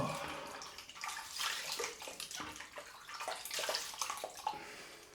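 Tap water runs steadily and fairly faintly in a bathroom sink during a wet shave, a continuous splashing wash with small surges and gurgles, no voices over it.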